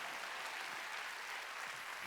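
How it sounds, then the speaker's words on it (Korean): Congregation applause during a Sunday church worship service, a dense, even wash of clapping that sounds distant and faint and holds steady throughout. "박수 치라."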